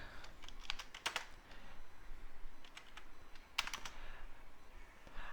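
Fingers tap out code on a computer keyboard in quick clustered bursts of clicky keystrokes with short pauses between, close and fairly quiet over a faint room hiss.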